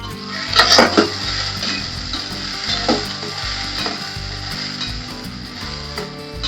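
Onions sizzle steadily in hot oil in a pan after the earlier ingredients have fried. An occasional scrape or knock of a stirring spoon sounds up close over the constant frying hiss.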